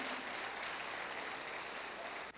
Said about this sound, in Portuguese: Pode aplaudir, que é para Jesus, pode aplaudir.